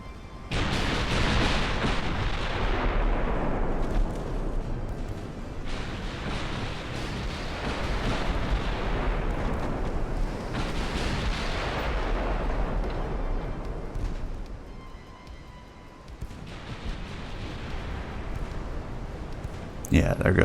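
Naval artillery roars in the warship game Ultimate Admiral: Dreadnoughts as heavy booming salvos recur about every five seconds, each rumbling out in a long tail, with a person talking throughout.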